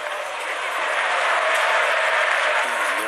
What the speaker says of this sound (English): there's some Bronx cheers. Just have a listen to that from the local crowd